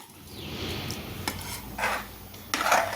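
A spoon scrapes and rubs around a pan of dhaba-style dal tadka, giving soft, gritty stirring strokes with a faint metallic ring, quiet and alone.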